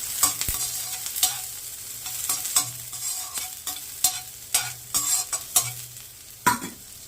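Carrots, cabbage, capsicum and chillies being stir-fried for veg noodles in a pan, with repeated bursts of scraping and tossing over a steady sizzle, loud and close, no talking.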